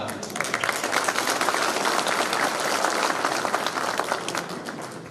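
An indoor audience at an agriculture and livestock fair in Çorum applauds. Dense, vigorous clapping fills the hall and stays strong throughout before easing slightly at the end.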